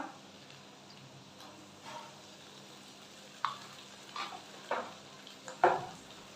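Ginger and garlic paste fries in a pan for a fish roe chorchori, a faint low sizzle broken by a few sharp spatula scrapes and taps as it is stirred.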